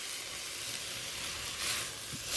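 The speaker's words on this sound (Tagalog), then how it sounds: "I just stir fry it." Carrots and vegetables being stir-fried for pork pancit bihon, with a steady, moderately quiet sizzle of frying close by and a brief surge partway through.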